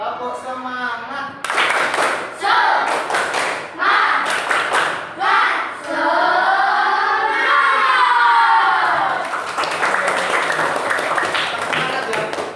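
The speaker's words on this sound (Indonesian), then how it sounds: "Tepuk semangat." A class of children performs a rhythmic clapping cheer, sharp group claps in patterned bursts alternating with loud chanted voices, close and energetic, ending in sustained shouting and cheering.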